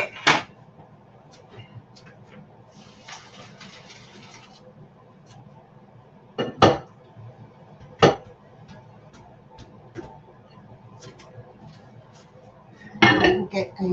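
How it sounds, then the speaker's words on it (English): Boiled potatoes tipped from a pot into a colander while salads are prepped for the week, with sharp metallic clanks of pot and colander, a rush of pouring water and scattered kitchen clatter close by. "Potatoes just need to be drained, so into the colander they go"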